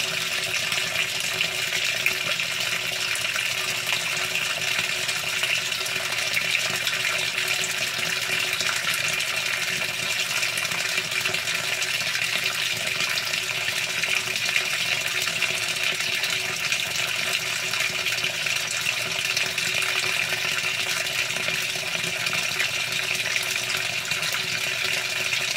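A 2017 Whirlpool Cabrio washing machine fills with water for a small load of darks, a steady rushing hiss of running water pouring in without pause, with no one talking.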